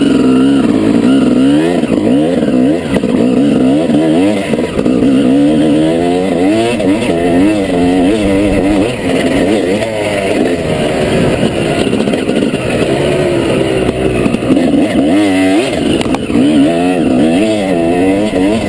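A loud motorcycle engine drones and revs continuously, pitch rising and falling as it rides past close by.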